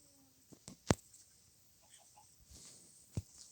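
Soft, scattered chicken clucks and chirps from Minecraft at low volume, with a few sharper clicks, quiet background between them.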